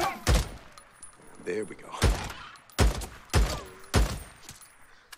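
Bursts of gunfire from the Days Gone video game, five loud sharp shots spaced irregularly with brief talk between them.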